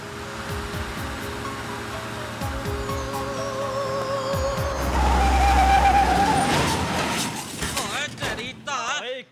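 A car drives with a steady engine roar that swells into a long tire skid and screech midway, followed by rattling and squealing, loud and close with talking partly overlapping.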